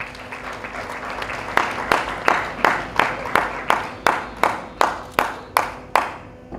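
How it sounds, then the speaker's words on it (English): An audience's round of applause at an evening event starts as a soft patter, then settles into slow, loud, evenly spaced unison claps, about two per second, with no talk over it. "Can you give a round of applause for yourself once more"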